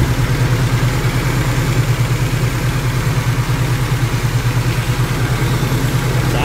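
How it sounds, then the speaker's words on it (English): A 1986 Nissan D21 pickup engine idles with its exhaust disconnected, a loud, close, even throbbing putter that continues steadily throughout. "It's idling pretty strong."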